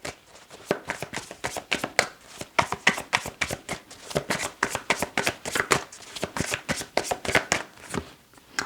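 Tarot cards being shuffled by hand in rapid, rhythmic bursts of crisp riffling and slapping, close and clear with no talking.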